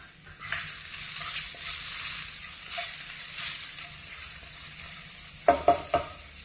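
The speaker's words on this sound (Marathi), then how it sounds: "कांद्याची पात चांगली परतून घ्यायची। त्यात चवीनुसार 1 चमचा मीठ टाकू।" Spring onion greens sauté with salt in a pan: a continuous close hiss of frying with soft scraping strokes throughout, followed by three sharp metallic knocks of the spatula against the pan at the end.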